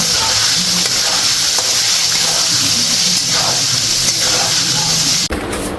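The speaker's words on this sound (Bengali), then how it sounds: "আলুগুলো ভেজে নিচ্ছে, এগুলো নতুন আলু তাই একটু লালচে।" New red-skinned potatoes frying in oil in a home kitchen, a steady dense sizzle and hiss running continuously, then abruptly dropping near the end.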